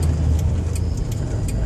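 A 1994 Nissan King Cab XE truck cruising on a town street, its engine giving a steady low hum and road rumble up close throughout.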